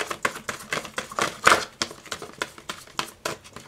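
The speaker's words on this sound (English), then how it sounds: "Okay, one last shuffle." Tarot cards shuffled in quick repeated bursts of papery riffling and soft slaps, close and fairly loud, with no talking.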